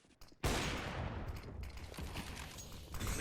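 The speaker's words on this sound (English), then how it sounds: "Prince spraying him down through the smoke" Rifle spray in Counter-Strike on the Vertigo map: a dense, sustained burst of rapid automatic gunfire kicks in sharply after a brief pause and keeps rattling steadily, loud and close, with no voices over it.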